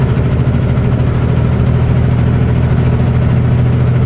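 Kenworth W900L truck with a 500 hp engine running steadily, a loud, close, continuous low diesel drone with a strong constant hum and slight vibration, no talk.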